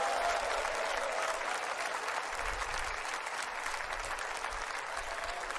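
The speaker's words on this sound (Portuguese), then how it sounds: "Só quem está feliz dá uma salva de palmas para o Rei Jesus." A large audience at a church men's gathering at a world headquarters applauds in a steady, dense wash of clapping that holds evenly throughout, with no voices standing out.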